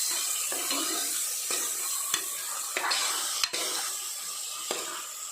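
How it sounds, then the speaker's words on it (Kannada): Rice fries in a pan under a steady sizzling hiss while a spoon stirs and scrapes it in regular strokes every half second or so, with a few sharper knocks against the pan. "ಫ್ರೈ ಮಾಡಿಕೊಳ್ಳುವ."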